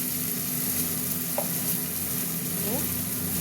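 Chili, coriander and cumin powders fry in a hot pan with a steady, close sizzle and faint stirring scrapes, with no talk over it.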